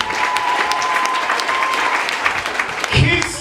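Church congregation clapping together throughout, a dense, steady wash of applause with a swell near the end, a voice speaking over it at times.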